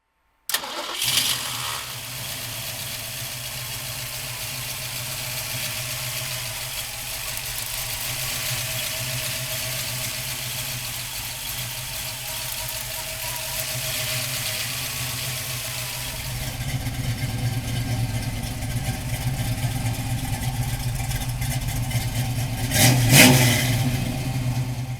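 A 1967 Ford Mustang Fastback, GT500-styled, cranks and fires up, settling into a steady rumbling idle that grows louder midway, then a sharp rev near the end, close by with no talk.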